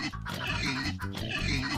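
A pig in the video game Turnip Boy Commits Tax Evasion lets out rough, grunting oinks in a couple of quick, close bursts over a busy game background.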